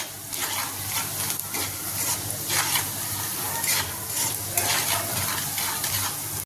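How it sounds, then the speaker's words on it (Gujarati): A spiced mixture of leftover roti pieces with turmeric, coriander-cumin powder and salt is stirred in a pan, with rhythmic scraping strokes over a steady sizzle. "બધું બરાબર હલાવી લેવાનું છે"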